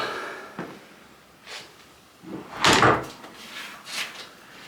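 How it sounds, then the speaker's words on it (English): A door in an old French country house swings and shuts with a soft thud, followed by a few faint creaks and knocks in a quiet room. "let's shut the door"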